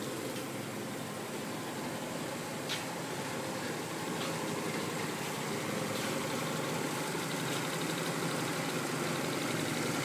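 A Toyota 3SGE Blacktop engine fitted in a Triumph TR3A with an overdrive transmission idles smoothly, a quiet, steady low hum that runs evenly throughout with no talking.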